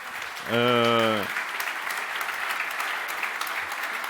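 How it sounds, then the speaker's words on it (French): Audience applause at the Transporteur de l'Année 2016 award ceremony, greeting four nominees: a steady wash of clapping throughout, opened by a brief loud tonal sound near the start. "J'aimerais que vous les applaudissiez parce que c'est important."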